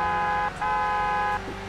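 A car horn in the racing game Gran Turismo 6 honks twice, a loud steady two-tone toot with a short gap between presses.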